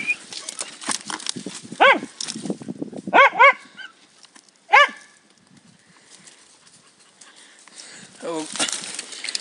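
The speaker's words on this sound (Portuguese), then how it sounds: "Ó, um cachorro." Dogs on a night hunting walk through dry scrubland bark in several short bursts, with other noise and voices between.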